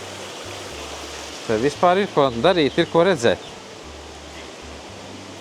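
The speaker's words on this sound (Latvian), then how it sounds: "Redz, kāds tur ūdens kritums, kāds strūklaka." Waterfalls and a fountain in the grottos at Villa Gregoriana make a steady rushing wash of water throughout, while a person speaks briefly over it partway through.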